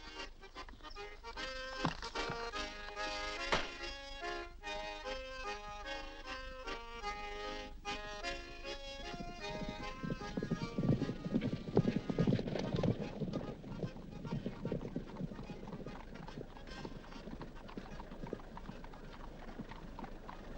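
Horse hooves clip-clop in a steady rhythm on a 1961 pirate-era smugglers' bay setting, fairly close and clear, with a music score layered over them and growing fuller partway through.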